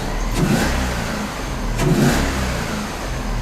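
A Toyota 1UZ V8 swapped into a Subaru BRZ revs loudly and close, with two sharp throttle blips rising over a rough, steady engine rumble.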